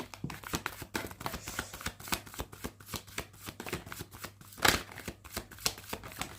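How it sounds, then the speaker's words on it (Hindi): A deck of tarot cards being shuffled close up in a steady run of quick, crisp flicks and snaps, with one louder riffle near the end and no voice over it. "single shuffle Prabhu"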